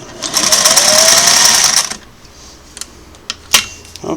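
A restored Singer Model 404 sewing machine runs a stitch test, whirring loud and fast for about two seconds before stopping, followed by a few sharp mechanical clicks and taps.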